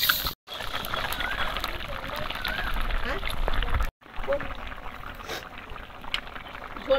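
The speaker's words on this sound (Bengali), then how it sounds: "ঝোলটা খুব ভালো করে একদম ফুটছে," Fish curry broth with plenty of water boiling hard in a pot during village-style Bengali cooking; a continuous bubbling, gurgling simmer close by, interrupted by two brief silent gaps.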